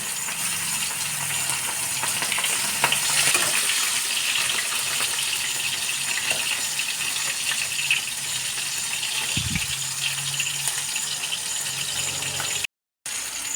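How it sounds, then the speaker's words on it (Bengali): Aar fish frying in hot oil gives a dense, continuous sizzling hiss with occasional faint crackles and a brief low bump, steady and close, cutting out briefly near the end, no voices. "তেলটা আমার গরম হয়ে গেছে, খুব সুন্দর মাছগুলো দিয়ে দেবো"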